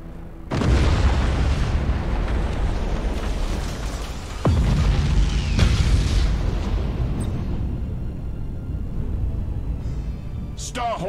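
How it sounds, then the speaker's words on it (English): Thunderhawk bombardment rains down in a video game: heavy, close explosions slam in one after another, each a loud broadband blast followed by a long rumbling roar, ending with scattered fainter debris and crackles. "Initiate Thunderhawk bombardment."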